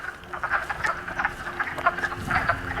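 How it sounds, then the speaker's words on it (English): A dense chorus of frogs croaks inside an old natural cement mine, rapid overlapping calls pulsing steadily and echoing off the rock, with no talking. "Wow, look at all the frogs."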